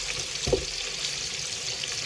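Food sizzling and searing in a hot pan, a constant bright frying hiss with one short louder pop or stir about halfway through, close and alone without talk.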